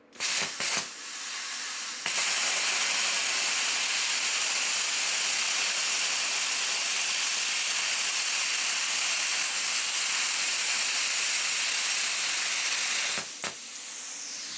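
A bestarc BTC500DP plasma cutter cuts eighth-inch metal with a loud, steady hiss that lasts about eleven seconds. Brief clicks and bursts come at the start and end.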